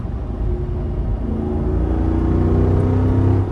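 The naturally aspirated engine of a Jeep Rubicon 392 revs with a deep, loud, continuous rumble that climbs steadily in pitch, heard from inside the vehicle without talk.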